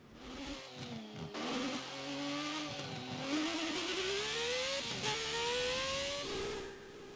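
A race car in a modern racing game threads the bus stop chicane, its engine dropping and then climbing steadily through the revs with short gear shifts, loud and close with no talk.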